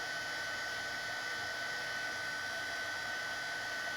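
A heat tool blows steadily to set crystal clear embossing powder, giving an even, loud whooshing hiss of fan and air that holds unchanged from start to finish.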